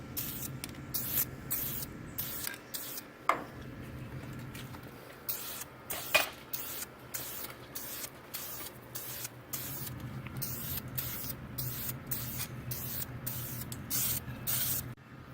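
Brake calipers getting their first coat of spray paint: an aerosol can hisses in a steady series of short, close bursts, with brief pauses between each spray.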